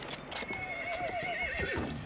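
In the Battlefield 1 video game a horse lets out a long, loud whinny with quivering pitch over a busy bed of hoof clatter and battle noise, continuous throughout.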